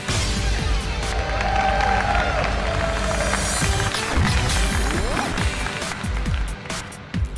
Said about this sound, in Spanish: ¡Fuerte el aplauso, señores!